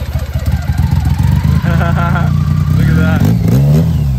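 Ducati Panigale V2 Bayliss motorcycle on a dyno, its engine firing up with a rapid pulsing idle and then revving in rising and falling surges, loud and close, while a voice speaks briefly over it.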